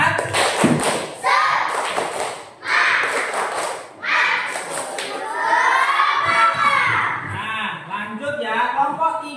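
Children in a classroom Islamic jurisprudence lesson perform a patterned group clap, bursts of hand claps in a set rhythm mixed with loud chanting and shouting voices, close and lively.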